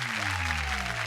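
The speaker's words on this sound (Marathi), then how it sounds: "जोरदार टाळ्या जाऊ देत" Applause from a studio audience at a Marathi television show, a dense continuous clapping that fills the whole short moment at steady loudness.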